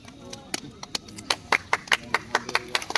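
Group of people clapping hands in a steady rhythmic beat at an outdoor yoga festival, sharp claps repeating several times a second with voices chanting along underneath.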